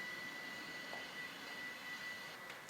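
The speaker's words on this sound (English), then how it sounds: "That's a very aesthetic cordless vacuum." A cordless vacuum cleaner runs steadily indoors, a constant airy whir with a thin high whine held throughout, fairly faint and with no voices.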